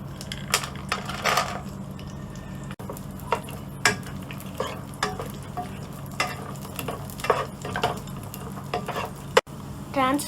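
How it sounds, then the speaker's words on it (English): Dry grapes added to a cashew-roasting pan on a stove over medium flame, with soft sizzling and scattered clicks and scrapes of a spoon stirring against the metal pan, close and fairly quiet, no talk. "Keep the stove on medium flame. Now add the dry grapes."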